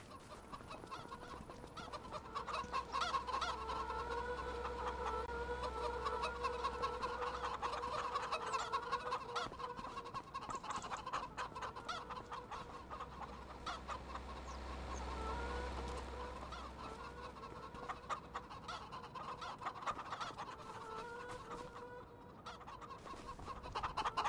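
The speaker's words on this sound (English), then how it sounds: "How's my chickens doing here?" Chickens cluck and murmur continuously on a farm, a busy layered chorus of repeated clucks at moderate distance, with a low rumbling hum underneath and no talking.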